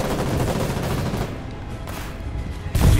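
Gunfire in the war video game Foxhole, a dense fusillade of shots filling the first half, thinning out, then a loud burst or boom near the end.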